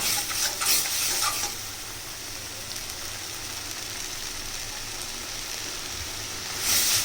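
Thick Bengali masoor dal with hinche greens and garlic is stirred in a hot pan, giving a steady close scraping and bubbling sizzle with a few louder scrapes at the start and end, no speech.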